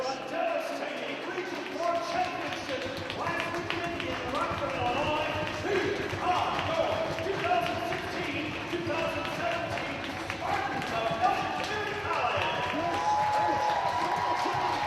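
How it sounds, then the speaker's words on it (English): Crowd noise fills a college basketball gym during Elgin Community College men's game against Lorain County CC, steady cheering and clapping with ball bounces and sneaker taps, a commentator's voice talking over it throughout. "Great crowd here tonight. You're hearing it."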